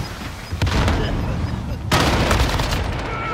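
A grenade going off in Call of Duty: Modern Warfare, two heavy booming blasts amid gunfire and battle noise, loud and near, with voices shouting over the chaos.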